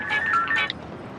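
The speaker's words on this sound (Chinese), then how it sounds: "不用打了，电话来了。" A phone ringing with an incoming call, heard as a short burst of bright electronic ringtone tones that fades within about a second, with no talk over it.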